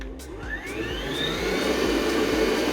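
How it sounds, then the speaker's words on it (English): An electric mixer whisks coconut cream at high speed. Its loud, close, continuous motor whine rises steadily in pitch over the few seconds, with no talking. "Now we whisk it as we would whisk a normal whipped cream."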